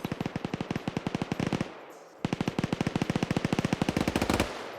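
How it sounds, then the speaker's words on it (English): Sustained automatic gunfire in a military video game, two long rapid bursts of evenly spaced shots separated by a short pause, loud and close with no talking. "Ash is suppressing this one building, maybe because he saw Dawidox."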